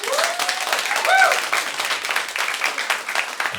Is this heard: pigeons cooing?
no